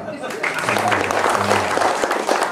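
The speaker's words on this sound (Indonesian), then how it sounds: "Tepuk tangan" A short burst of audience applause, loud and fairly close, with voices talking over the clapping throughout.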